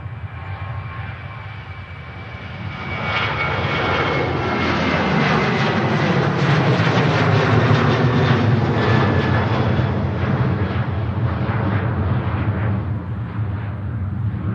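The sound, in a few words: Ryanair jet airliner departing Manchester Airport, rotating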